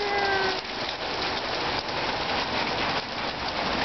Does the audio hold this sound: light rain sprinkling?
yes